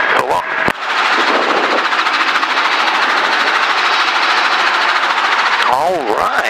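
A training helicopter's engine and rotor spin up to speed under governor control, a loud, dense, continuous thrumming whine heard close from the cockpit, with a brief voice at the end.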